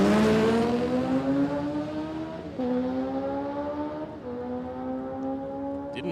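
A 1700cc Kawasaki Nomad drag bike launches down the strip at Palmyra Dragway, its engine loud at first and stepping up through two gear shifts as it pulls away and fades into the distance.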